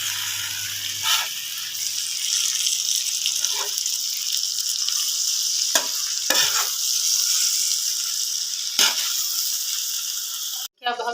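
Fried okra and green chilies stirred in a sizzling pan, a steady frying hiss broken by several sharp spatula scrapes and clacks, close and fairly loud, with no talk over it.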